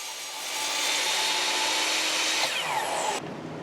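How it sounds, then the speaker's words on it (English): Power saw cutting through clamped wooden boards for the long sides of a heavy-duty floating shelf frame, a loud steady whine that holds for several seconds before cutting off near the end. "With the boards clamped together, I cut the long sides of the frame to size."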